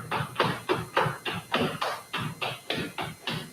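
Appalachian flatfooting slap step variation with the third slap behind the body, recorded on a 1996 VHS workshop tape: a steady run of about a dozen sharp shoe slaps and scuffs on a wooden floor, evenly paced, with no talk.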